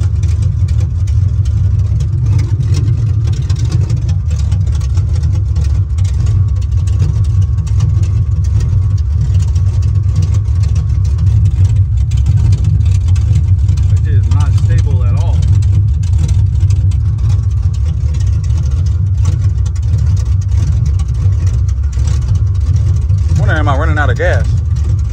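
Chevrolet Monte Carlo SS engine idling rough, a loud, steady low rumble close by, with a person speaking briefly over it.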